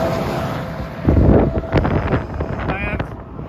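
Strong wind buffeting a microphone on a bike ride, heard as loud, gusty rumbling that swells and fades, with someone talking through it.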